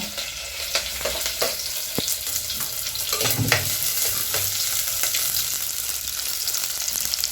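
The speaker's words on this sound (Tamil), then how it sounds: "இப்போ கடுகு போட்டுக்கலாங்க. கொஞ்சம் பச்சை மிளகா போட்டுக்கலாம். இப்போ வெங்காயம் போட்டுக்கலாங்க." Mustard seeds, green chili and onion fry in hot oil, giving a steady close sizzle with crackling pops and stirring clatter throughout, no talking.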